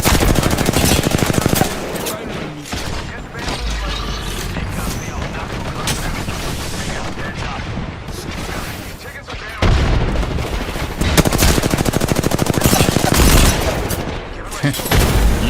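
Rapid bursts of automatic gunfire in an Apex Legends video game match rattle almost continuously, loud and dense, with heavier volleys near the middle and end.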